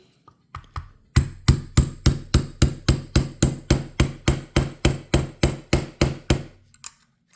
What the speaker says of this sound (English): I don't want to hit with my hammer too hard